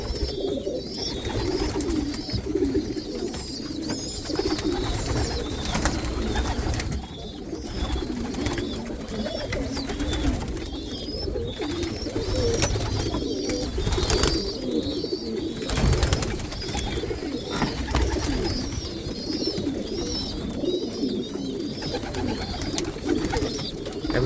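Young pigeons in a high-flying loft, already eating on their own, squawk and coo continuously at close range, a dense, repetitive chorus of begging calls with flapping and shuffling throughout.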